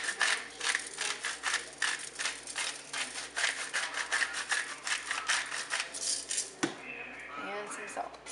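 A pepper grinder cranks over chicken for a creamy dill dish in a home kitchen, giving close, rhythmic gritty crunches that stop near the end as a voice briefly speaks.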